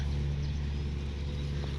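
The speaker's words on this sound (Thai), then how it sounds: "อ๋อตอนนี้คือเสียงรถขนอ้อยนะคะ" A heavy sugarcane haul truck rumbles past nearby, a steady low engine drone filling the short stretch without any talking.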